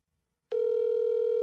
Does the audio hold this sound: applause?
no